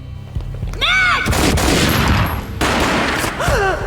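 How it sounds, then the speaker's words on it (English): Loud gunfire in the Max Payne video game, a burst of sharp shots with a booming, noisy tail, accompanied by wailing, siren-like tones rising and falling. "A gunshot boomed and she fell down in slow motion"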